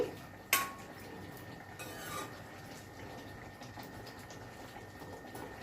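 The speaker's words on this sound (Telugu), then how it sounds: "మూత పెడదాము" A lid is set on a pan of frying prawns with salt and turmeric: one brief clank, then a low steady simmer of the cooking pan, close by.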